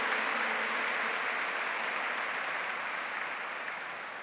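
An audience at a religious talk claps together in a dense, steady wash of applause that stays strong and gradually tapers toward the end, with no voices over it.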